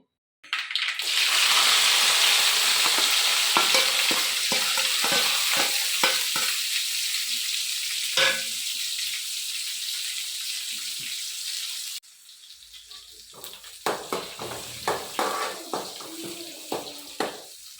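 Mustard seeds, fenugreek, cumin and chopped vegetables frying in hot oil in a village kitchen: a loud, dense sizzle with crackling pops that suddenly quietens into sparser spitting and stirring clatter.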